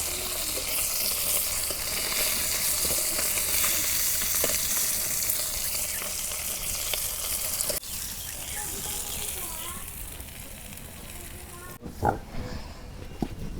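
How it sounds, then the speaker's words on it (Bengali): Small sarpunti fish fry in hot oil in a village kitchen, a steady loud hiss and crackle throughout, easing after the midpoint as the pieces are lifted out, with a brief clatter near the end. "মাছ ভাজা হয়েছে, এখন আমি নামিয়ে নিতেছি"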